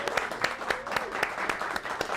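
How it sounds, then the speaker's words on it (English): A studio audience at a televised talk show claps in a round of applause, a dense, lively patter of many hands that carries on steadily with a rhythmic pulse, and faint voices sit underneath it. "Give a round of applause."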